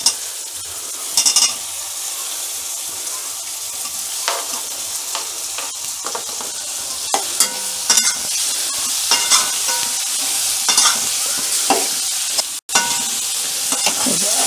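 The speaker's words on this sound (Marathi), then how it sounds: "आता मी यामध्ये ना बटाटे टाकून घेते." Potatoes and softened onions frying in a pan for a yellow Maharashtrian potato bhaji, with a steady close sizzle broken by repeated scraping stirs of a spatula against the pan.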